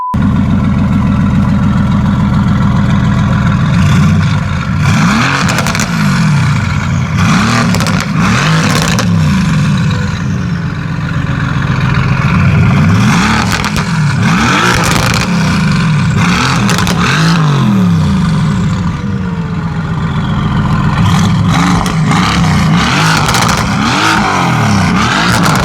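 A Mercedes-AMG M177/178 twin-turbo V8 fitted with VRP turbo manifolds, strapped to a dyno, revs hard again and again, each loud rising blip falling back toward a burbling idle, close and continuous with no talk.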